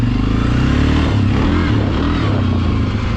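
Loud, steady ATV engine rumble from a 17-year-old Suzuki KingQuad and a new Yamaha Kodiak, with rough, throaty idling and some revving, close by and continuous throughout.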